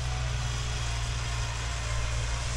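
A small two-wheel tractor engine runs while tilling a field at the start of rice-planting season, giving a constant low, throbbing drone with a steady hum close by and no voices.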